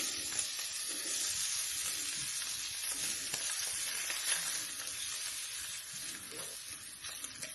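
Bacon sizzles and crackles steadily in a hot pan, a dense close hiss with occasional pops and faint stirring noises.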